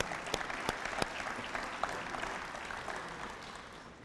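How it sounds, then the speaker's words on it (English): An audience at a high school ring of honor ceremony gives the cooks a round of applause, a dense wash of many hands with a few sharp, close claps standing out, slowly fading toward the end. "let's also give them a round of applause"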